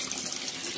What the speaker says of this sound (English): I'm about to turn on the shower,